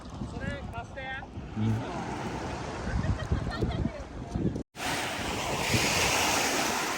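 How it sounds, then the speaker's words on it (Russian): Sea waves roll onto a crowded swimming beach, a continuous washing roar with heavy wind buffeting the microphone and faint voices in the background. "А здесь, смотрите, какие волны."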